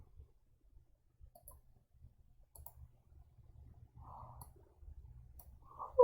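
Faint, sparse clicks of keys on a computer keyboard as titles are typed, a slow irregular pattern of soft taps in an otherwise quiet room.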